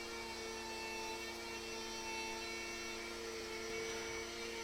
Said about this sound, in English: using a bottom bearing pattern bit, I routed out the mortise for the hinge leaves